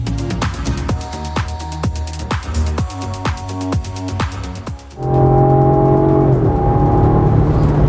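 A Jaguar XE P300 R-Dynamic facelift accelerates hard, its engine note partly artificial and played from the front. Rapid sharp pulses and rising revs give way to a loud, sustained rising whine after a gear change.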